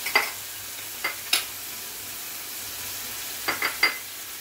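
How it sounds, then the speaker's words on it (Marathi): Kolumbi masala with turmeric and chilli spices sautéing in a pan: a soft sizzle underneath, with several sharp spoon scrapes and taps against the pan in two clusters, near and clear. "आणि परतून द्यायची"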